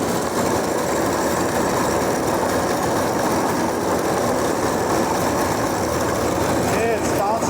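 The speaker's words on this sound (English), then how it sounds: "I'm going to turn up the engine RPM on the tractor to get to that 535 RPM" An Allis Chalmers All-Crop 72 harvester is driven by a tractor in a wheat field, its engine revved to a higher speed, giving a loud, steady mechanical roar with clattering machinery and no break.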